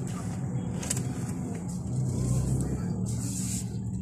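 Cars crawl through a congested road before the evening fast-breaking rush, a steady close engine rumble with passing vehicle hiss and faint voices.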